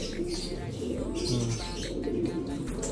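Taiwan racing pigeons coo in low, rolling murmurs that overlap steadily, with faint chirps and some human voices in the background.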